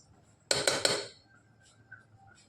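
A spoon clatters against a pot while jaggery is mixed into carrot halwa: three quick, close metallic clanks in a tight burst, then near silence.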